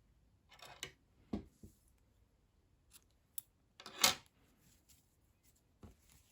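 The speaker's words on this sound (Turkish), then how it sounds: "İpliği burada kesiyorum." Scissors snip through sewing thread during garment stitching, a few sharp, quiet clicks spread apart with near silence between them.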